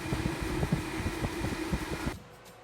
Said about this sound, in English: we're going to connect that to a exhaust fan with a variable control so we can control how much airflow is coming out